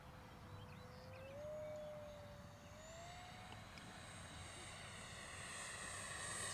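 An RC Arrows Viper 50mm EDF jet on 3S power screams past at full throttle, a steady distant whine that rises and shifts in pitch against outdoor wind rumble.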